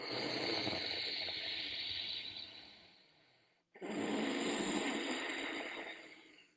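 Two long, steady exhalations through a constricted throat give a soft, hissing, ocean-like rasp, close and fairly quiet, separated by a brief pause for breath.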